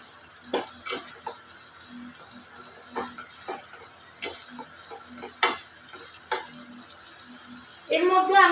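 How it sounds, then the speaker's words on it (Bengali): Spice masala for dhaba-style egg curry is stir-fried over a raised gas flame, with a steady sizzle broken by periodic scrapes of a spatula, ending in a louder burst of frying. "এই সময় গ্যাসের ফ্লেমটা একটু বাড়িয়ে মশলাটাকে খুব ভালো মতন করে কষে নিতে হবে"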